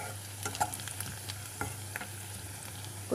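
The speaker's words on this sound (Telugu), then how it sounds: "ఉల్లిపాయలు వేగిని ఇలా వేగితే చాలు" Onions frying in a pan for a prawn and okra curry, giving a steady close sizzle with occasional stirring scrapes and clicks, no voices.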